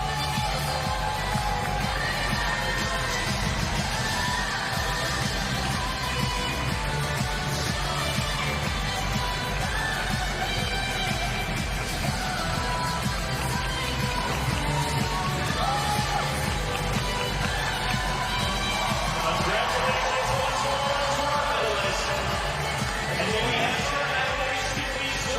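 Large crowd at the 2025 World Championships lead climbing final in Seoul cheering for winner Dohyun Lee, a dense continuous roar of applause and shouting with commentary over it.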